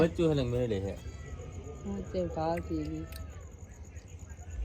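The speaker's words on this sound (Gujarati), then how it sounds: "ક્યાં મીંદડી છે?" A house cat meows close by in several drawn-out, pleading cries, then pauses and meows again more briefly, with faint voices in the background.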